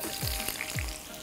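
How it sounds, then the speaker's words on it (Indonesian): Chili sambal ingredients fry in a wok of hot cooking oil with a steady, close sizzle and crackle throughout, broken by a couple of soft scraping stirs. "Gorengnya sebentar aja semua bahan sambalnya ini"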